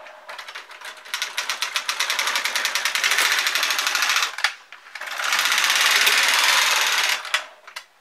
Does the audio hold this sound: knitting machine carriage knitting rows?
yes